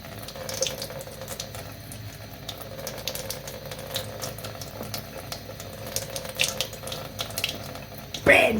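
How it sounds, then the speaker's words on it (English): Water running steadily from a tap during a home static electricity experiment, a constant close splashing hiss that stays loud throughout. "So you can see the tap, it's just flowing straight down."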